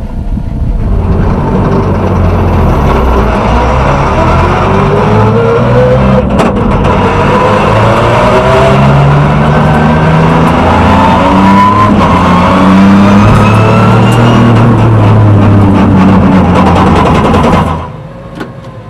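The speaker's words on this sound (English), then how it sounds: "I found the car quite brutal. The noise, the vibration, it feels almost primitive." A race car engine roars continuously during a fast track ride, loud and close, with rising and falling revs through gear changes and corners for nearly twenty seconds before cutting off abruptly.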